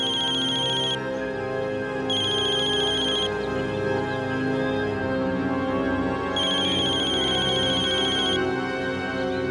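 An incoming call's electronic phone ringtone sounds in repeated bright bursts over a background music score in an Indian crime drama scene, with no talk.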